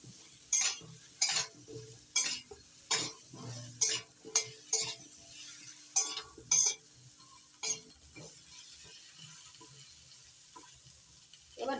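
A spoon scraping and knocking in a pan as cauliflower is tossed with salt and turmeric, a dozen or so distinct stirring strokes in uneven rhythm over a quiet background, close and clear.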